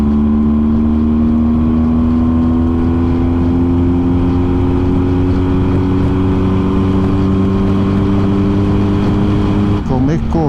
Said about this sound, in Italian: la moto carica, siamo in salita, c'è un po' di vento contro, sentiamo il motore.